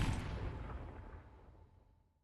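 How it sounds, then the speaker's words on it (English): A single gunshot fires in the video game Arknights, a sharp boom that fades into a long rumbling echo over about two seconds. "The gunshot."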